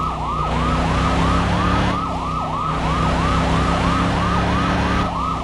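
Ambulance siren in a car parking video game, a loud, steady wailing sweep repeating about twice per second over a low engine drone, heard alone with no talk.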